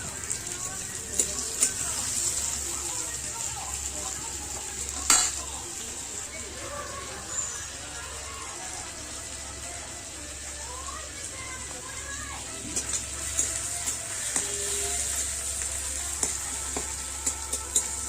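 Tomatoes sizzle and fry steadily in a pan while being stirred, a constant crackling hiss with occasional clinks of the utensil, and a person speaks quietly over it.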